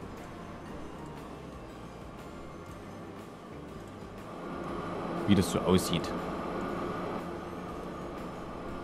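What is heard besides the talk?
train running on a line in the video game Train Fever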